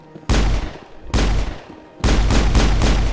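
Four loud, close gunshot blasts from the video game Mass Effect, the first two spaced apart and the last two fired in quick succession, each with a heavy booming tail.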